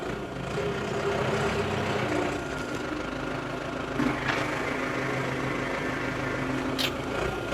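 A tractor engine pulls in third working gear while cultivating a field, giving a steady, loud, close droning rumble with faint knocking vibration throughout and no voices.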